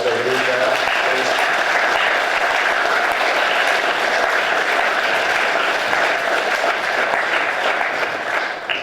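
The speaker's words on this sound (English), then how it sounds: "Can we give them one more round of applause as they do that?" A school auditorium audience gives a sustained round of applause for veterans at a recognition assembly, dense steady clapping filling the room from start to finish with faint voices mixed in.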